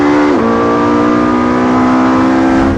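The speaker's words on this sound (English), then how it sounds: "Listen to the 918's howl. The noises are just fabulous." Porsche 918 Spyder engine howling on a race track, loud and close. A sustained high-revving tone holds steady, with a short shift early on.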